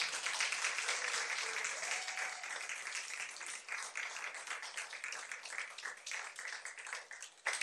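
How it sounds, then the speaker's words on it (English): Applause for students at a school board meeting, a soft, fairly distant patter of many hands clapping at once, continuing evenly for several seconds with a slight swell near the close. "let's have a big round of applause."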